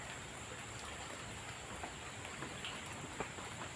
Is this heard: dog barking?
no